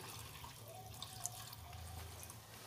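Soapy, hand-washed clothes drain, with faint scattered drips and a quiet trickle under low background hum.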